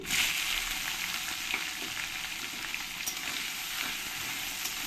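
Chopped onions fry in a spice masala for chicken dopiaza, giving a close, steady, dense sizzle that runs on its own without a break.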